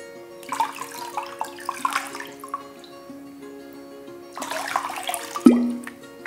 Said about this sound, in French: on va se rincer les mains